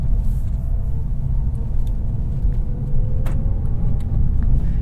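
A 2013 Mazdaspeed 3 driving along, its cabin filled with a steady low road rumble and a muted engine drone, fairly constant with slight swells and no talking.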